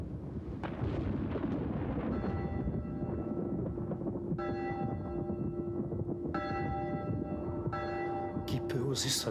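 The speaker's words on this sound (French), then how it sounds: "Qui peut oser sonner les cloches?" Church bells ringing, heavy resonant strokes repeating at intervals over a rumbling, noisy background, the tolls layering and sustaining, with a voice heard faintly at times.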